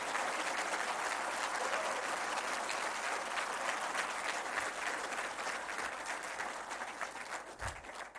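An audience at a ceremony where the Prime Minister gives an address claps steadily and densely throughout, a sustained wash of applause that thins slightly toward the end.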